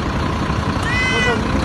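A cat stuck between the concrete blocks of an overpass pillar in Istanbul gives a thin, short meow near the end, heard over a constant rumble of nearby traffic and engine noise.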